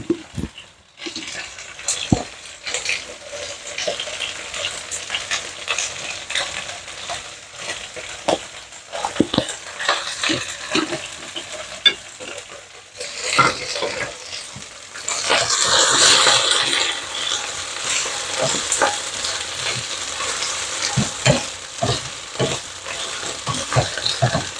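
Ginisa sautéing in a pan at home, a continuous close sizzle with scraping spatula strokes and clatter, swelling into a louder hiss midway as ingredients are added, with no talk.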